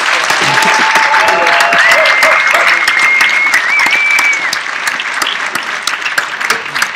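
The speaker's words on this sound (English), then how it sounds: "Please give a big round of applause." Conference audience breaking into loud, sustained applause, thick overlapping clapping with scattered whoops, fading slightly toward the end.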